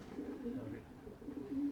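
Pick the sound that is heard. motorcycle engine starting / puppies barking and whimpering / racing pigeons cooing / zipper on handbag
racing pigeons cooing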